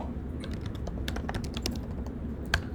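Keys clatter on a computer keyboard in a quick, irregular run of close taps over a low room hum, with no voice.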